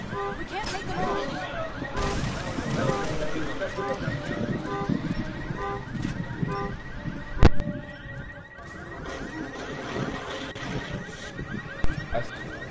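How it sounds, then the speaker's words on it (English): A car alarm in Resident Evil 6 sounds as a repeating warbling electronic tone through most of the stretch, mixed with game noise, a sharp bang and players talking over it. "the alarm goes off"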